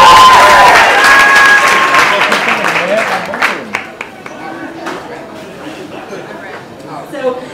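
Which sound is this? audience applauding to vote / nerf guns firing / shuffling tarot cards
audience applauding to vote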